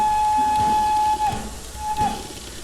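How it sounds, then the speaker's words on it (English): A steam locomotive whistle sounded from inside the cab, a thin steady tone held for over a second, cut off, then a short second blast, set against a rumbling, hissing background of the engine. "Let me find the whistle, there's the whistle for you."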